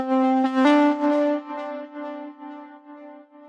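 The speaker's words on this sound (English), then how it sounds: "For the chords I have this first preset from Flex" Sustained synth chord from a Flex preset in FL Studio for an electro house track, a bright stacked chord that swells then holds and slowly fades, played alone.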